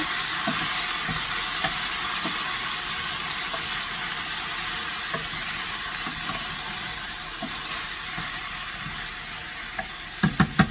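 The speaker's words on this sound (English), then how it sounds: "On a high flame, we're just going to let this saute" Vegetables for a spaghetti meat sauce saute in a pan over a high flame, giving a continuous close sizzle with faint scrapes of stirring and a few sharp clinks near the end.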